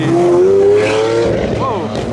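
Lamborghini sports car engine roaring during Monterey car week at Pebble Beach: a loud, sustained rising note from a passing car, then a quick rev dipping and swelling near the end, with voices in the background.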